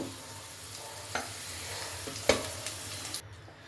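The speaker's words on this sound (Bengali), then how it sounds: "দেখুন বন্ধুরা আলুটা কত সুন্দর ভাজা হয়ে গেছে" Potatoes fry quietly in oil, a soft steady sizzle broken by a couple of sharp clinks from a utensil.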